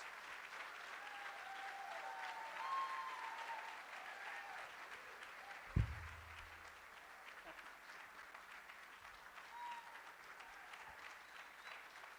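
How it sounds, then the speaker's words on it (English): Audience applause at a live evening talk on Palestine, sustained clapping from a seated crowd that holds steady for several seconds, broken by one sharp thump midway, then thins and tapers away. "Let's have a round of applause."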